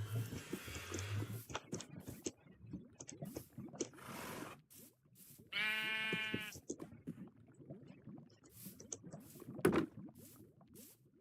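A sheep in the Minecraft video game bleats in a clear, wavering cry near the middle, among soft in-game footsteps, block clicks and other scattered game sounds.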